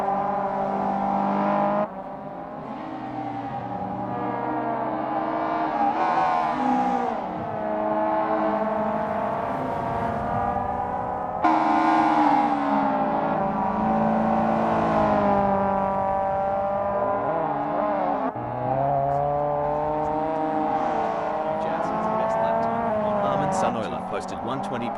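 A Mazda Eunos Roadster in Assetto Corsa racing practice, engine droning and rising and falling through gear changes as it laps, with a commentator talking over it throughout.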